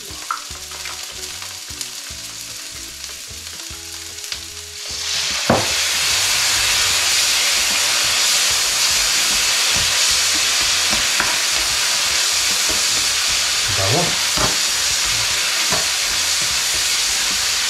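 Pork innards sizzle loudly in a pan for papaitan as fish sauce (patis) is poured in; a quieter frying hiss swells abruptly into a steady, intense sizzle with occasional clinks of a ladle.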